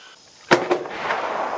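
A single sharp .223 rifle shot from an X2 Dev Group AR-X Lightfighter, loud and close, followed by a quick echo and a lingering outdoor decay.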